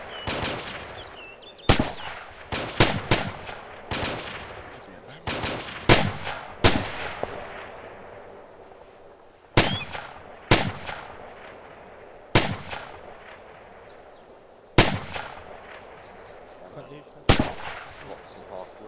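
Sharp gunshots and heavy artillery blasts in a military video game, a dozen loud separate reports at irregular intervals, each trailing into a short rumbling echo, with faint voices in the background.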